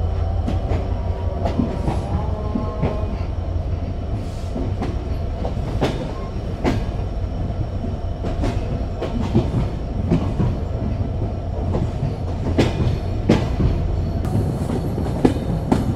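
The Simanta Express rolls along the rails on a night journey, a steady loud rumble heard from on board with repeated clickety-clack wheel beats and occasional sharp metallic knocks, with no one talking.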